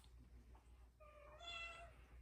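A pet cat meows indoors, a faint drawn-out cry rising and falling about midway, over a low background hum and with no talking.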